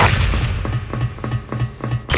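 Grenade explosion in a video game firefight: an opening heavy blast followed by a rapid, regular series of thudding gunfire bursts, then another sharp burst at the end, loud and close, no talk.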